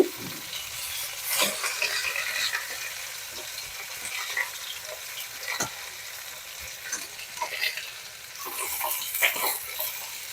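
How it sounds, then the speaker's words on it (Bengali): Bata fish frying in hot oil in a large wok, a steady crackling sizzle with sharp spitting pops and occasional scrapes of stirring, close and fairly quiet, with no talking. "মাছগুলোকে আর একটু লাল করে ভেজে নেব"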